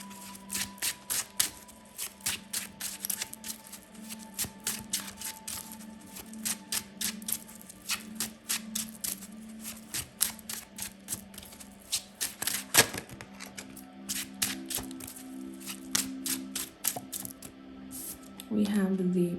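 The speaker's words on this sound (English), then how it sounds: "Too many cards. I want to reshuffle." A deck of tarot cards is reshuffled at close range, giving a steady run of rapid, crisp card flicks and slaps over a low background hum, with a brief voice near the end.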